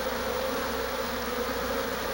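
Bees fanning their wings in the doorway of a hive to cool it, a steady, even drone with a persistent tonal hum throughout, fairly close and with no voices.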